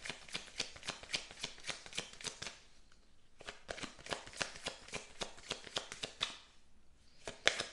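Tarot cards shuffled by hand, rapid close riffling flutters in two bursts separated by a short pause, with a few soft card placements near the end.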